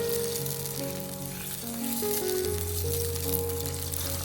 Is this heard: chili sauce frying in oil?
yes